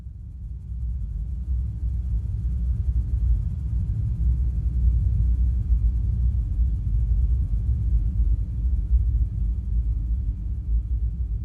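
A dense, continuous low-frequency drone texture from a time-stretched kick drum in Ableton Live, grainy and rumbling, holding steady and loud for the whole stretch with no pauses.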